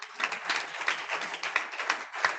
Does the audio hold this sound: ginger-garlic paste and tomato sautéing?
no